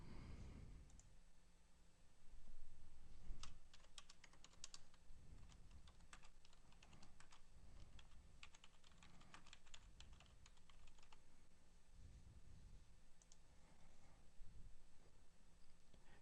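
Typing on a computer keyboard while entering text into fields in Autodesk Revit: quiet, rapid irregular key clicks in bursts over a low steady room hum, with no voice.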